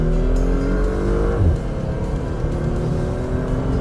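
A 2019 Porsche Macan S engine revs hard and pulls away from a standstill, the pitch climbing then dropping as it shifts gear, loud and close from inside the vehicle.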